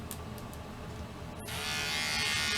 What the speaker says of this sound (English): And to do around the ears, you just roll up your trimmer to about 1/4 inch.